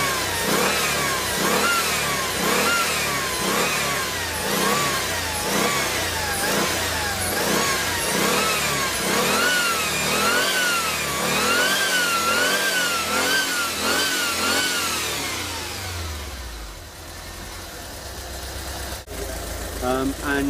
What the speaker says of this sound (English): if I spin the engine up